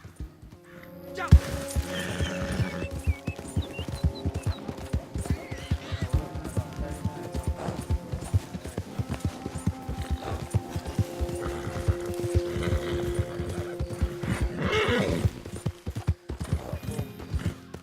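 In the video game Red Dead Online, rapid clip-clop of horse hooves runs throughout, with a neigh rising near the end; voices talk underneath and music plays in the background.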